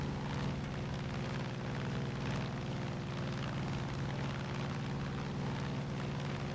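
A steady, droning airplane engine in the video game Far Cry 5, with a low propeller-like hum, loud and continuous throughout, with no voices.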